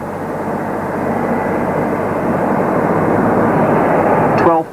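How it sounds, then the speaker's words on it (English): Aircraft engines roar in a steady, loud drone as planes take off from Abbotsinch and Prestwick airports in Scotland, carrying football supporters on an overnight airlift; the engine noise holds throughout, swelling slightly toward the end. "Planes are leaving Abbotssinch and Prestwick every few minutes through the night and all the next morning."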